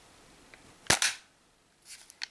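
Umarex HDP50 CO2 pistol firing 12.5mm steel balls from an 8 gram CO2 canister: one sharp, loud pop, followed by quieter thuds a second later.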